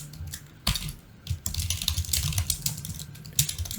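Rapid clicking keystrokes on a computer keyboard, typed close by in uneven bursts with a short pause near the start and no voices.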